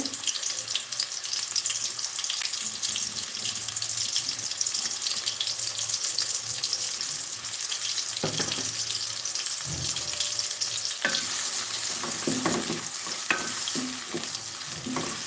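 Onions frying in a pan for pulao, a steady loud sizzle running throughout, with intermittent scraping stir strokes and clinks becoming more frequent toward the end; no talking.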